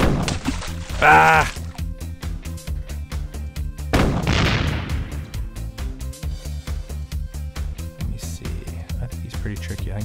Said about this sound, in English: Let me use the big shot cannon here too.